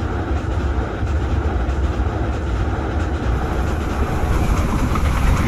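Kalka Mail train running at night in Indian Train Simulator, a continuous loud rumble of wheels on track with a rolling clatter, close and unbroken, with no voices.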